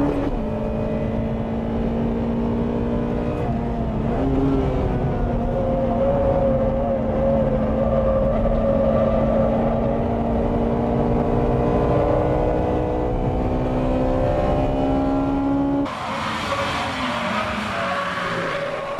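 Race cars including a Mazda RX-7 and Honda Type R models (NSX-R, Integra Type R, Civic Type R) screaming around a circuit, engines droning loud and continuous with rising and falling pitch as they shift, a harsher burst near the end.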